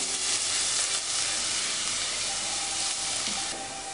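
Garlic sizzles and fries in olive oil over low heat, a steady close crackle with occasional stirring and no voices.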